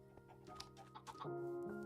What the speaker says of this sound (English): I just keep hearing it chirp.